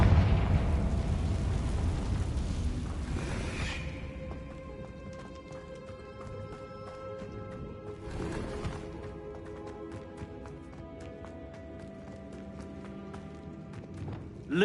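A Confringo blasting spell in Hogwarts Legacy bursts in a loud opening explosion that rumbles and fades, followed by a second, smaller blast partway through, amid faint echoing footsteps and clatter.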